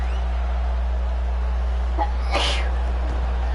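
A single brief sneeze bursts out mid-clip over a steady low electrical hum and crowd murmur at a martial arts fight.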